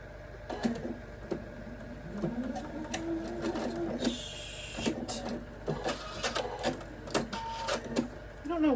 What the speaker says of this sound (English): So I'm gonna sew corner to corner.